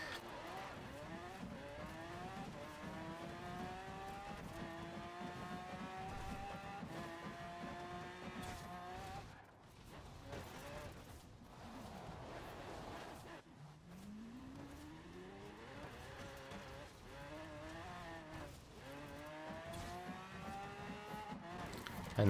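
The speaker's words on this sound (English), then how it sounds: "all I'm going to do is drive through this lines of cones" A car in Forza Horizon 4 revs through gear changes with rising engine pitch, easing off around the middle and building again, fairly faint throughout, while cone impacts and tyre hits are not clearly separable.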